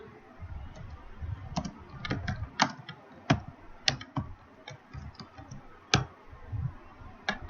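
Code being typed on a computer keyboard: irregular bursts of sharp key clicks, close and fairly clear, with faint room noise and no speech.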